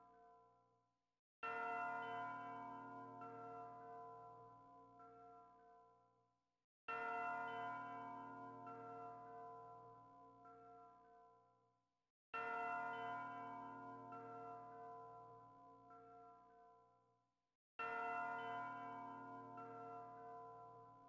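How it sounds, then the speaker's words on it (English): Church bells ring in the video game Valkyrie Profile: Lenneth, with four separate, evenly spaced bell strikes, each bright and clear. Each tone fades slowly before the next, with silence between. "Church bells are ringing."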